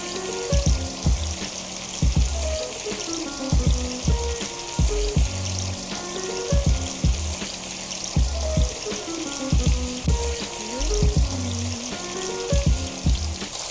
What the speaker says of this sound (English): just enough to coat them with flour one by one. And we will fry them